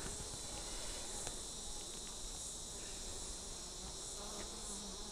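Honeybees buzz in an open hive during a brood inspection, some carrying pollen loads; a dense, steady hum continues throughout with no speech.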